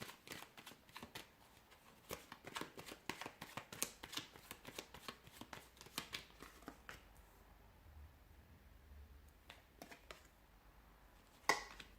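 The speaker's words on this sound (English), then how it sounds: "give the cards a shuffle" Tarot cards being shuffled by hand during a reading, a run of crisp, rapid riffles and soft slaps up close, thinning to scattered taps and a final sharp snap near the end, with no talking.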